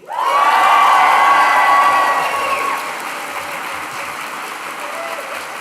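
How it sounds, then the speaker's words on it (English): A large graduation ceremony crowd cheers loudly for the class of 2025, a sustained roar of shouts and whoops that swells at once and then eases to a lower, steady cheer. "Massive, massive cheer for the class of 2025."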